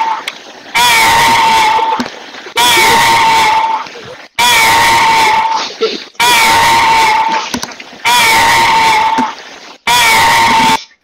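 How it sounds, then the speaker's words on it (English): Loud, strained screams burst out in about six repeated bursts of roughly a second and a half each, separated by short silences, in a steady stop-start pattern. The voice is harsh and shrill. "Was that the scream?"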